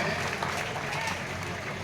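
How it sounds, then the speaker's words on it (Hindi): Audience applause welcoming a guest at a Bharatiya Janata Party function at Navodaya Vidyalaya, Lavan, a steady wash of clapping over a short stretch with a low hum beneath. "इनका भी जोरदार ताली का स्वागत करें"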